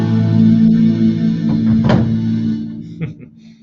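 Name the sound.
guitar with effects made to sound like a synthesizer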